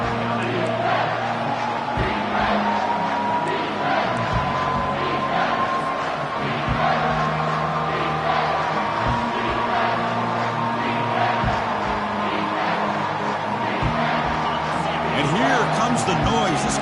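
A roaring college football stadium crowd builds noise to fire up its defense in the red zone, a loud, sustained wall of cheering with a commentator talking over it.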